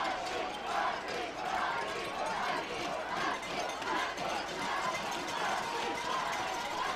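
Spectators at a high school football Division II final at IG Field roar in a steady, continuous wash of crowd noise, with cheering and chatter blended throughout and no single voice standing out.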